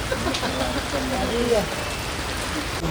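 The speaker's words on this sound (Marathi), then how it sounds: "खूप चांगला पाऊस आहे" Rain pours down steadily on surfaces, a dense constant patter, while a voice talks faintly underneath.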